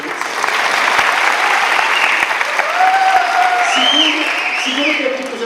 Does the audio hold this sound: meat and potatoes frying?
no